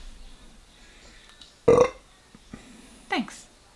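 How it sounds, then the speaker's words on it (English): A loud, abrupt human burp erupts close to the microphone, followed after a pause by a second shorter, rising vocal gulp amid quiet room ambience. "That was a salmon tasting burp right there."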